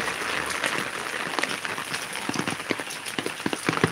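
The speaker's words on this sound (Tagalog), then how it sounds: "Ay my God, lumalakas talaga ang ulan." Heavy rain pours down steadily, making a dense, loud hiss with scattered closer splats and drips. Nobody speaks.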